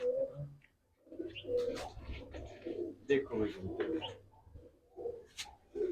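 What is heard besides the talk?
pigeons cooing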